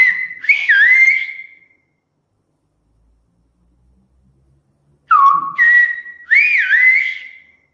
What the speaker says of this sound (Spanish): Ahora te voy a silbar una frase que ya habíamos silbado en las muestras